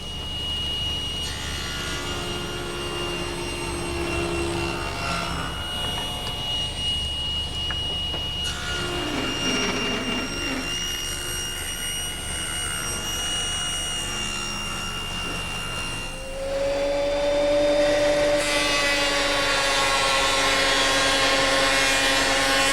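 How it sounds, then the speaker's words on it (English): A table saw rips thin strips from 3/4 inch wood stock, its blade whining steadily with tonal hum shifts as cuts load and unload, then rising louder toward the end. "I want to take some 3/4 inch stock and rip some thinner strips"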